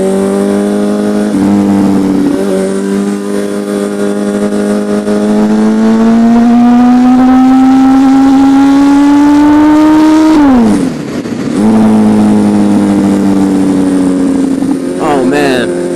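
Superbike engine at close range, a loud sustained rev that climbs steadily in pitch, drops off sharply for a moment, then picks back up and holds high, with a voice heard beneath it.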